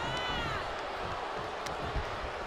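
An arena crowd in the WWE 2K23 wrestling video game cheers and roars steadily at moderate level, a broad continuous swell of voices with scattered whoops.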